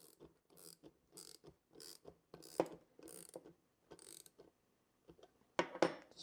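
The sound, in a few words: tightening lock nut on Kreg Top Track flip stop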